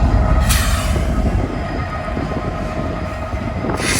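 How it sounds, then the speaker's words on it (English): Freight train rolling past in Decatur, Alabama, a loud, close, continuous rumble of wheels and cars with rail clatter and brief hissing squeals, steady throughout with no talk. "Elijah, another road freight will pick up the cut of cars and take it on to Memphis"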